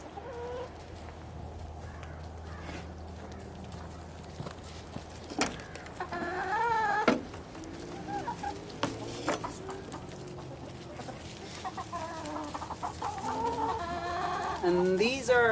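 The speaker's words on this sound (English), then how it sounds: "these are our laying hens" Laying hens cluck and murmur nearby in scattered bursts, getting busier toward the end over a low background hum.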